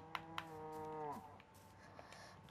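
A cow in the video game Minecraft lets out a single drawn-out moo lasting about a second, preceded by two soft clicks, then quiet game ambience.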